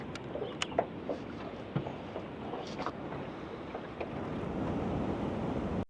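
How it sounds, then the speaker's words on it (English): Steady rushing river water with a continuous broadband wash and occasional soft splashes and clicks over it, fairly close, heard from the riverbank. "enjoying the flowing water and immersing himself in nature"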